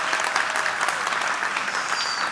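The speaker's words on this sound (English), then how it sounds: "Let's hear a round of applause for everybody." Audience at a talk breaking into applause, dense continuous clapping filling the room for a couple of seconds with no voices over it.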